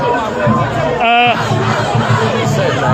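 A protest crowd in Manchester shouts and yells continuously at close range, with one sharp raised voice cutting through the din.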